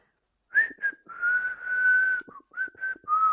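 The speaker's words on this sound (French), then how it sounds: "Je siffle." A person whistles a short tune alone: a few quick chirped notes, then a long sustained tone and several more brief phrases, clear and close.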